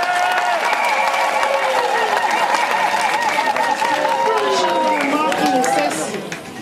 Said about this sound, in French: On peut quand même applaudir.